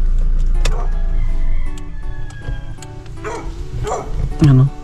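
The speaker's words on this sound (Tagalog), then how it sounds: "Yung kanyang kahol na kahol na pinapaakyat tayo" A dog barks repeatedly, sharp yelps and bow-wow calls spaced a second or so apart, fairly near, over a low engine drone with a voice speaking between barks.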